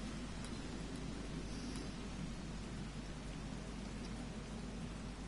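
Rain pours in a video game as a constant, dense hiss with a low rumbling undertone, steady from start to end with no talking.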